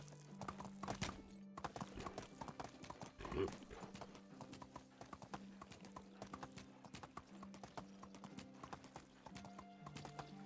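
Hooves of a horse clip-clop in the medieval survival game Medieval Dynasty, a steady run of close, crisp hoofbeats with a brief neigh partway through and game music droning beneath.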